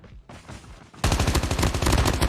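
An AK-117 assault rifle in Call of Duty: Mobile fires from the hip in loud, rapid automatic bursts. Faint background game noise comes first, then a sustained stream of close, dense gunshots.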